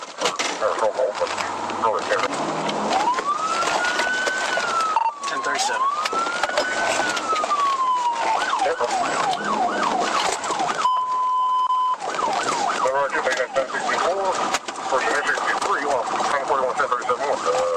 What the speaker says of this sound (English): immediately activated his sirens to initiate the pursuit